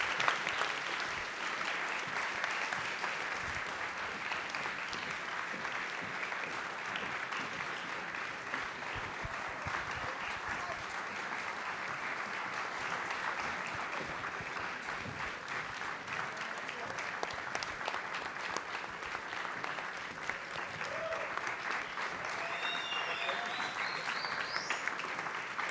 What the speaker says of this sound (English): If we just get a round of applause.